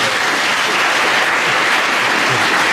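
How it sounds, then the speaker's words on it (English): An audience at a school open evening breaking into sustained applause, a dense, loud, even clatter of many hands clapping with no break. "I think they all deserve another big round of applause."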